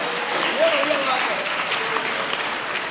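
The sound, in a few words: audience applause at Hindi poetry recital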